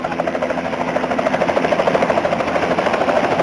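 Helicopter engine and rotor on a sightseeing ride over Mumbai, a loud steady drone with a fast rhythmic throb heard continuously from inside the cabin.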